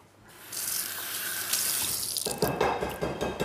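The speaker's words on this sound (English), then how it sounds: "to get the flour to stick to our cauliflower, I'm gonna run it under a little bit of water" Cauliflower is rinsed under a running kitchen tap: water gushes on steadily and the splashing turns brighter and more broken partway through as the florets pass under the stream.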